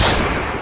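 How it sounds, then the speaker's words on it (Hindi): Gunshot sound effect in a Hindi comedy sketch: a single loud, broadband burst with a fast decaying tail, heard alone without talk. "बेबी फिर से गोली चली"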